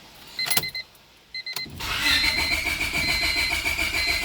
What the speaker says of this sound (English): We're going to crank it to depressurize the fuel system.